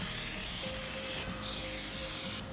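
Silicone-based lubricant sprayed onto slider window tracks in two close hissing bursts, each cut off by a short pause, with no talking.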